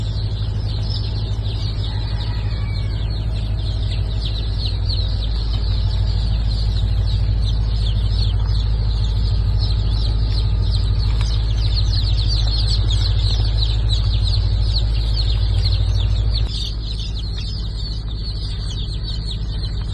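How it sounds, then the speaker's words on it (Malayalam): Many Thalassery native chicken chicks on hatching day cheep continuously in a dense, overlapping chorus of high peeps, steady and fairly loud throughout, over a constant low hum of machinery. "എല്ലാം നാടൻ കോഴിക്കുഞ്ഞുങ്ങളാണ്"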